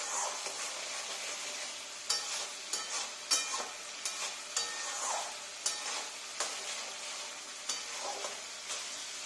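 Masala spices sautéing in oil in a pan for a quick Bengali fish curry, with a steady sizzle and frequent stirring scrapes at close range, no talking.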